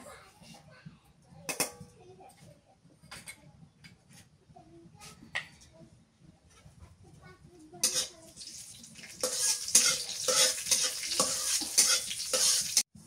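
Whole cumin seeds hiss and crackle in hot mustard oil as they go into the pan for a bitter gourd and potato fry, the sizzle swelling loud and steady in the second half after quieter clatter.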